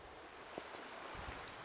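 Rain falling in the video game Tomb Raider: Chronicles, a faint, steady hiss of spattering drops that fills the whole moment with no voices over it.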